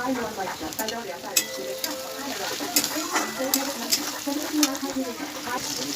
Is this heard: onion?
yes